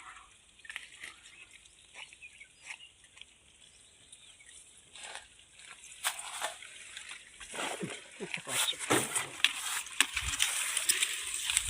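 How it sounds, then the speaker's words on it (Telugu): Cow dung mixed into liquid and tipped into a water drum while preparing liquid jeevamrutham, giving splashing and sloshing that builds louder and messier toward the end, with faint trickles early on and voices nearby. "బాగా పేడని కలుపుకొని దీన్ని కూడా మనం డ్రమ్లోకి వదులుకోవాలి"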